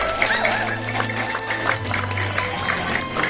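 A crowd of RW 02 residents applauds at a neighborhood Indonesian Independence Day celebration, with dense, continuous clapping under a loudspeaker voice.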